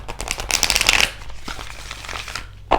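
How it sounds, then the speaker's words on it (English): A deck of cards being shuffled quickly for a reading, a close crisp riffle burst followed by softer shuffling and a final snap of the deck. "I'm going to shuffle it super quick here"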